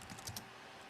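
Keys clacking on a computer keyboard as someone types an essay, a quick burst of a few soft taps near the start and then near-silence, close and faint.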